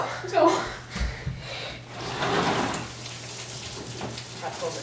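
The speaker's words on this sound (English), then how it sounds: "it's raining out" Rain falls outside as a steady patter of drops on surfaces, with people talking and laughing over it at close range.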